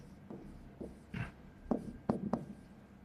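Marker squeaking and tapping on a board while a table is drawn, a few short strokes and quick taps at close range, faint and sparse against a quiet room.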